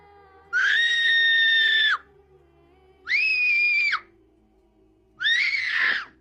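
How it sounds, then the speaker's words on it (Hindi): A girl's high, shrill screams ring out of a nearby cave in three separate drawn-out bursts with quiet gaps between, each loud, sustained and wavering at the end. "करीबी गार से एक लड़की की चीख सुनाई दी।"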